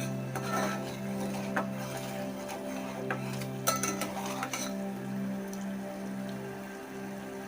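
Sugar syrup being stirred in a pan over a steady low hum, with a spoon clinking and scraping against the metal in scattered light strokes, fairly close.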